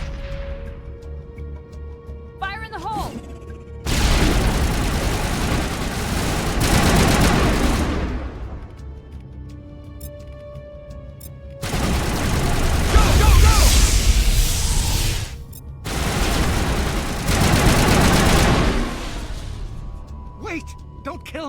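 Grenade blasts and bursts of gunfire in the video game Mass Effect arrive as three long, loud, roaring stretches separated by quieter gaps, with a shouted voice mixed in.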